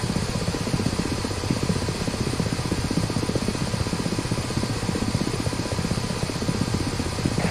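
Ka-50 Black Shark helicopter in the DCS flight simulator, a steady, loud rotor and engine drone holding constant throughout with no voices.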